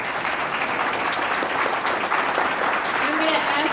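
Audience applause at a public hearing on the Constitution Pipeline in Oneonta, a dense, steady wash of clapping that holds at an even, fairly loud level throughout with no pauses.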